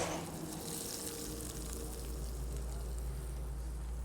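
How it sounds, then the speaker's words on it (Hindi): Tadka tempering with Kashmiri red chilli poured into sarson ka saag, a steady broadband sizzle with a low rumble underneath, continuous and fairly close throughout. "अब एक तड़का हम सरसों के साग में ऐड कर देते हैं।"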